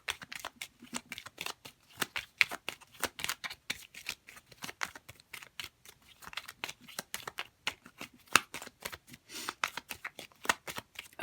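Tarot cards are shuffled by hand in quick, crisp riffles and slides, a dense run of close, light papery flicks and snaps that continues without pause.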